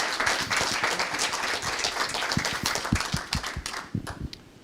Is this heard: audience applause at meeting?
yes